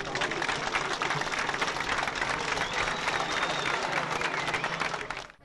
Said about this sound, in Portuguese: Cristiano foi recebido com mais aplausos.